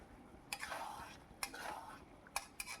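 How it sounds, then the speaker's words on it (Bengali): Mutton keema curry with potatoes being stirred in a pan, with quiet swishing and a faint sizzle punctuated by a few sharp clicks of the utensil against the metal. "এবার ভালো করে একটু নাড়ি চাড়িয়ে আর নেবো আমি"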